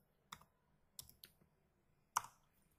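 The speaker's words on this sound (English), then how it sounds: "In Google search bar type Media" Four or five quiet, separate keystroke clicks on a computer keyboard, spaced irregularly as someone types a search into a browser, with no voice present.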